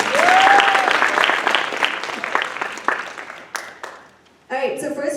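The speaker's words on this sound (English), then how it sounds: "let's give a round of applause to them" An audience at a library event claps for Honor Society volunteers, brisk and fairly close at first with a brief whoop, then thinning to scattered claps and dying away before a speaker begins talking.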